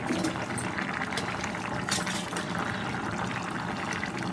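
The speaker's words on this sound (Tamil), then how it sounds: "இந்த ஸ்டேஜில் வந்து நீங்கள் கொஞ்சமாக தேங்காய் எண்ணெய் சேர்த்துக்கோங்க" Coconut oil going into a cooking pan makes a continuous, moderately loud liquid pouring and bubbling sound that stays steady for several seconds without pause.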